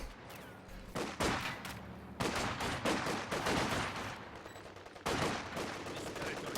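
A Maxim machine gun fires at a garrison in a strategy video game, with repeated bursts of gunfire and explosive thuds in irregular clusters, moderately loud and continuous.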